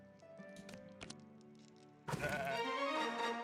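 A sheep in the fantasy video game Across the Obelisk lets out a loud, wavering bleat after a run of light clicking and tapping game sounds, with no speech.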